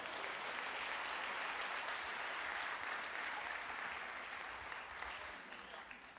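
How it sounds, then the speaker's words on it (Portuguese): A church congregation applauds during a sermon, a dense, sustained clapping that holds steady and then slowly tapers off near the end. "Você pode aplaudir o nome do Senhor?"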